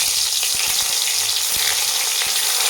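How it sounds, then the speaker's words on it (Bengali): Drumstick stalks frying in hot oil in a wok, a loud continuous close sizzle with a few faint knocks of stirring. "কাল্লাটা ভেজে নেব,"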